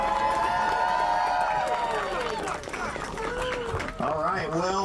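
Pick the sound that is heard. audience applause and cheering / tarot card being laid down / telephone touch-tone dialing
audience applause and cheering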